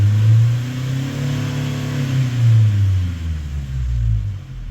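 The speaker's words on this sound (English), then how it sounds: "So if I bring the revs up," A Nissan X-Trail diesel engine, running low on boost, revs up and settles back, its low rumble rising and falling in steady pitch sweeps close to the mic with no talk over it.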